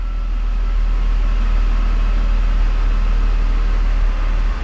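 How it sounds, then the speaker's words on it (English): A BMW E46 3-Series engine idles roughly with an intermittent misfire, a steady, close mid-pitched engine drone that runs continuously with no talk. "You can see the idle is kind of getting affected."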